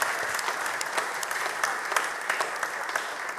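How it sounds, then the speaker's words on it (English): Church congregation applauding steadily throughout, a dense wash of many hands clapping with no talk over it. "Give him a round of applause."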